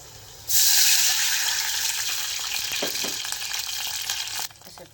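Water mixed with sugar syrup is poured over a freshly steamed dhokla in a home kitchen, making a bright, continuous splashing hiss that starts abruptly and runs about four seconds before stopping.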